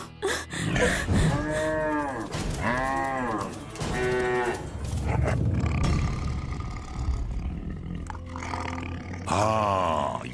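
A cartoon cow moos several times in long, drawn-out calls with pauses between, fairly close and loud, over a rough background.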